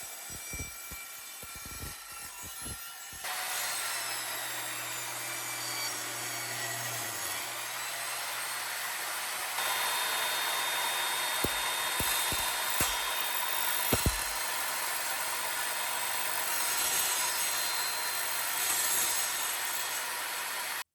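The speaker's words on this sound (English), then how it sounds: "I'm now going to test the multi-purpose blade on a variety of materials such as wood, plastic, and metal" Evolution R10 TBLX table saw fitted with a multi-purpose blade, spinning up to a loud steady whine and cutting through wood, plastic and metal in turn, with sharp bangs and clatter between cuts, close and continuous, no talking.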